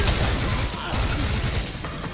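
Rapid, dense gunfire in the shooter game Singularity fills the whole stretch loudly and close, shot after shot blending into a continuous volley.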